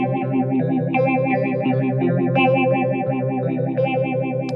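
Electric guitar run through an effects pedal set to an extreme pulsing modulation, sustained distorted chords throbbing in a steady wobbling rhythm, loud and close with no talking.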